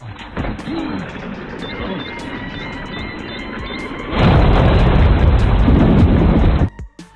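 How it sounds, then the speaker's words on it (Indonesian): A bomb goes off in a lift in a hacker film scene: a rumbling, hissing stretch with beeping leads into a loud, sustained roaring blast that cuts off abruptly. "Orlando lalu memutuskan untuk meledakkan bom di kursinya sendiri"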